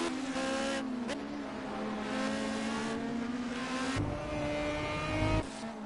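IndyCar and Lotus Type 89 Cosworth race cars racing at Cadwell Park, engines droning steadily at high revs with pitch shifts as they pass and change gear, loud and close throughout.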